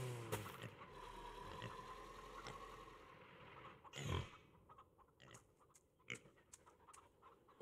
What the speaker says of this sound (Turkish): Domuzların sesleri.